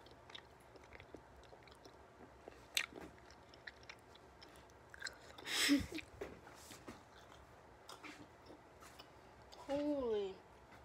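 Chewing on a big gummy candy produces soft, sticky, irregular mouth noises, close up but quiet, with a couple of louder wet bursts and faint background sounds.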